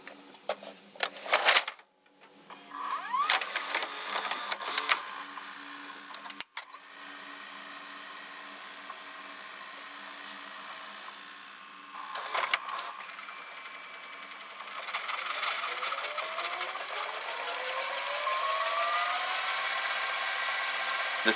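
A Toshiba or Daytron (Daewoo) VCR mechanism runs steadily with whirring, rubbing mechanical noise, punctuated by a few clicks and clunks, then a rising motor whine as the tape transport speeds up.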